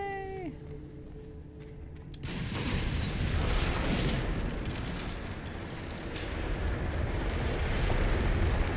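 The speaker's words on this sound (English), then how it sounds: "You're missing all the explosions." Explosions roar in the combat of Dragon Age Inquisition, a sudden blast followed by sustained rumbling, crackling debris that swells again near the end, after brief tonal game sounds.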